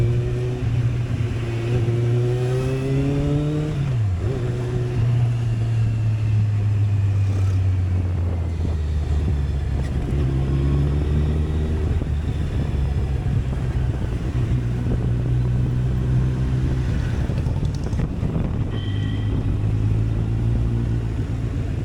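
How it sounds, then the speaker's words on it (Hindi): A Kawasaki Z800 motorcycle engine hums loud and close while being ridden, its pitch rising and falling through gear changes, with wind rushing over the microphone. "सुपर बाइक की जो साउंड रहती है उससे एक अमेजिंग फील आ रहा है मुझे।"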